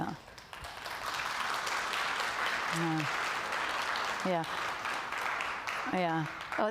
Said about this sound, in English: thanks for that clap